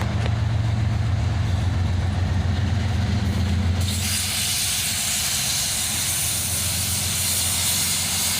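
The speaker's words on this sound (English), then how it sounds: "here we see the entire full-size train backing up into the" A full-size intermodal freight train backs slowly into a rail yard. A steady, loud rumble runs under a strong hiss throughout, with no talk, and the low tone drops away partway through.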